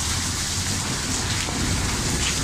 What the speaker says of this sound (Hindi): अभी बारिश शुरू हो चुकी है